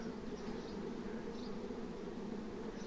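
A bee swarm hums steadily inside a twelve-frame Ukrainian warm-style hive, a dense continuous buzz close by with no pauses and no voices.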